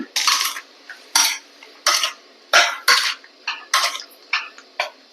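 A utensil repeatedly scrapes and stirs squid stir-fry in a pan with oyster sauce, about nine quick, loud, rhythmic strokes separated by short pauses.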